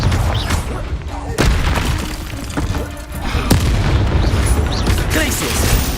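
Booming explosive Confringo spell blasts in the wizarding game Hogwarts Legacy, sharp bursts punctuating a loud, busy battle with spell effects and a voice talking throughout.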